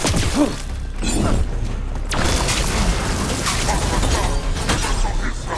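Cannon fire in Dragon Age: The Veilguard, heavy booms and thuds over a dense mechanical rumble, one sharp whooshing blast standing out partway through.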